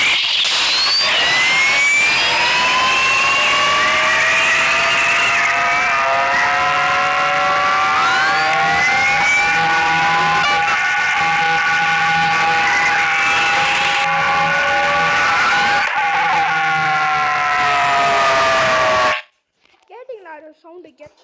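A racing video game car's booster engine roars loudly and continuously for about nineteen seconds with rising, whining tones, then cuts off abruptly into near silence.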